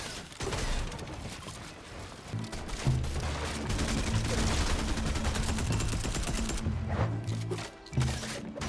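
Rapid bursts of gunfire in a shooting video game, dense fusillades and machine-gun rattles through most of the stretch with brief gaps, fairly faint overall.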